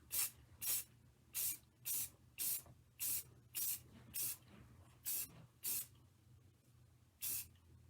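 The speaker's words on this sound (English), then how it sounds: "so then you spray your pen with spray paint" Short bursts of aerosol spray hiss in an uneven rhythm, about a dozen quick sprays close by, with a low hum underneath and no talking.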